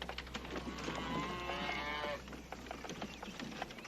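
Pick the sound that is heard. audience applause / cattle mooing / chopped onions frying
cattle mooing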